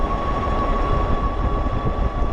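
Cyrusher Kommoda 750W dual-suspension fat-tire electric bike running on throttle alone at about 26 mph on a straight stretch, giving a steady broadband rush of wind and tire roar with a faint constant motor whine throughout.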